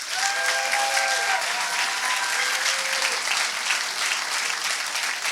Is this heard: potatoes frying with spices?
no